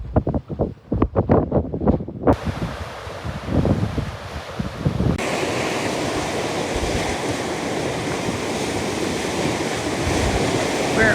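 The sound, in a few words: rough ocean waves breaking at Cape of Good Hope coast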